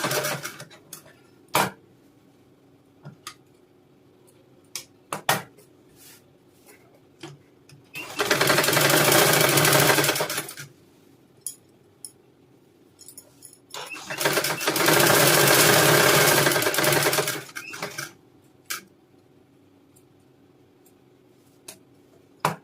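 A sewing machine double-stitches a blouse in two long, loud bursts of rapid running stitches, separated by quiet stretches with scattered clicks and handling taps, and no voice.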